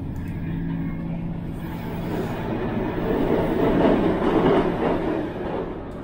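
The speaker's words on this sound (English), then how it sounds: "how long do you reckon it takes for our train to go through it?" A refurbished Transport for Wales train on the Conwy Valley line runs through a long single-track tunnel, a steady close rumble and roar with rhythmic wheel clatter that swells toward the middle.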